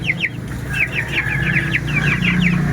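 Pet chickens in a small coop, with rapid repeated high chirps and clucks close by over a low steady background hum.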